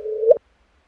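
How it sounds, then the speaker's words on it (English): A short tonal chirp from two merging black holes of about 30 solar masses each, detected by LIGO, held steady, then sweeping sharply upward in pitch before cutting off abruptly, under half a second long. "that is the sound of two black holes, each of about 30 solar masses"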